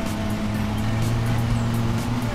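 A ride-on lawn tractor engine in Lawn Mowing Simulator drones steadily and evenly, a loud, close, unbroken motor hum with no talk over it.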